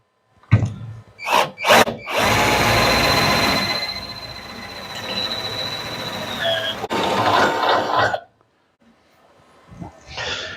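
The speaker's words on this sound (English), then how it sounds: "1/4 inch drill." A power drill boring a quarter-inch hole whirs steadily for about six seconds, a high-pitched whine under the motor, after a few short trigger bursts, then stops.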